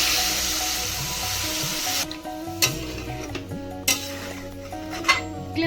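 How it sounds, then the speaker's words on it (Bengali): Water poured into a frying Bengali curry of gathi kochu (taro) with whole green chillies, a broad steady rush and hiss for about two seconds, then quieter simmering broken by a few sharp clinks of a utensil against the pan. "কষিয়ে নিয়ে বন্ধুরা এবার আমি জল ঢেলে দেবো"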